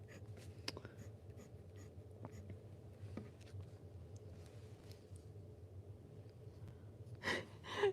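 Ferris Wheel Press Joule fountain pen with a wet nib scratching softly across paper, faint continuous strokes with a few light taps over quiet room noise.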